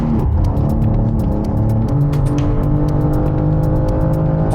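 BMW M car engine at high revs during a drift, a loud continuous roar with shifting harmonic pitch as it changes gear, steady and close throughout with faint tyre noise.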